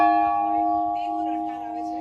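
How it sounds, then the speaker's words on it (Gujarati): A stone bell at the Sapteshwar Mahadev temple rings with a steady, sustained metallic tone that slowly fades, close and clear with no talk over it. "એક જ પથ્થરમાંથી ઘંટનાથનો અવાજ આવે છે"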